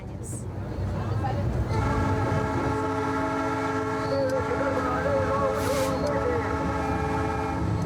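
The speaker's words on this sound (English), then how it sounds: "Being on the train today reminds me of old times." A passenger train climbs a Peruvian mountain railway toward Juliaca, its horn sounding in long, sustained tones over a steady rumble of the cars rolling along the track, with talk heard faintly beneath.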